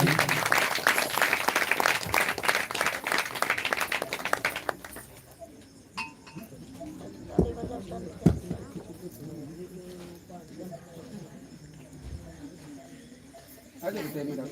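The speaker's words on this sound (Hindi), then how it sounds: "ताली ताली बजाएंगे, कृपया ताली।" Dense clapping from an audience at a live Hindi religious story-singing event, lasting about five seconds before dying away into murmuring crowd noise and scattered thumps, with a brief burst of claps again at the end.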